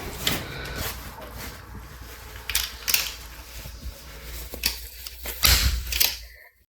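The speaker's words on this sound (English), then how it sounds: "Test that the recline works, so squeeze and pull." On a Valcobaby Snap Duo Elite stroller, the recline strap mechanism is squeezed and pulled, giving several sharp plastic clicks and ratcheting snaps close by, scattered over a few seconds of fabric rustle.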